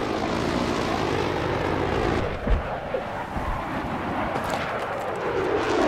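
A jet aircraft in a Battlefield-style video game Conquest match on Kharg Island roars past, a loud continuous engine rush with a short thump midway and the whine swelling again toward the end, no talk.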